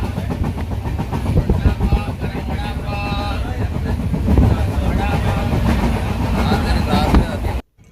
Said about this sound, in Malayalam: തിരുനാൽവേലിയിൽ നിന്ന് ജാംനഗർ വരെ പോകുന്ന തിരുനാൽവേലി ജാംനഗർ എക്സ്പ്രസ് ആണിത്.